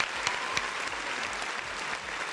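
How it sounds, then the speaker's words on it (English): An audience at a regional esports finals event gives the winner a round of applause, dense steady clapping throughout with a few sharper individual claps standing out. "everybody, a round of applause for Marcel for winning the regional finals."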